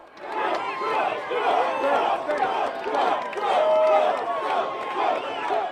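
A large outdoor crowd at the Canfield Fair during Donald Trump's Labor Day visit, with many voices shouting and calling out together in a loud, continuous babble and bursts of cheering.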